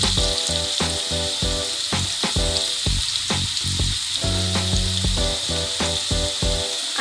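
Half-fried potatoes sizzle steadily in a pan with salt and turmeric, with a continuous close frying hiss broken by repeated clattering strokes as they are stirred and turned.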